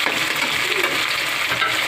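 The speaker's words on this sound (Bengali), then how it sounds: "এবার আমি পেঁয়াজটা দিলাম, তারপরে আমি লঙ্কাটা দিলাম।" Onion and chili frying in a pan for a breakfast dish, a steady, close hissing sizzle with faint stirring scrapes throughout, no voices.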